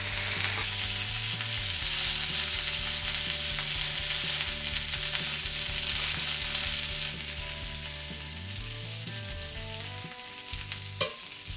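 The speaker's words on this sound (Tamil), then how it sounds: "தவால வச்சுட்டு இதை வந்து நம்ம திருப்பி போட்டு வேக வைக்கணும்." Chicken tikka fries in a pan as a loud, continuous sizzle with a dense crackling hiss that holds steady throughout, with occasional low tonal hum from the stove and a faint clink near the end.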